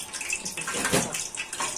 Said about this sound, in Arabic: اهو الزيت بيحمى اهو بدا خلاص يسكت صوته كده، صوته خلاص بدا يهدى اهو